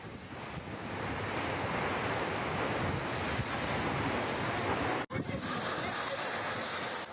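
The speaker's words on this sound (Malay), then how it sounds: "Ribut itu membawa bersama hujan lebat dan angin kencang" A storm with heavy rain and strong wind gusting up to 110 km/h makes a steady, dense roar that fills the air, loud and continuous, briefly cut off near the end before resuming.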